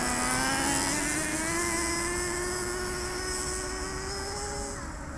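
Traxxas Revo 3.3 nitro RC monster truck engine running on a chilly day, a high, buzzing whine that rises slightly in pitch, then holds steady and fades a little as the truck moves away.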